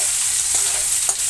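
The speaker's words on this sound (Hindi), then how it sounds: "प्याज को जब तक भूनेंगे जब तक प्याज ब्राउन ना हो जाए।" Finely chopped onions fry in a pan for a soybean and capsicum bhurji, a steady loud sizzle with faint stirring scrapes close by, and no talking.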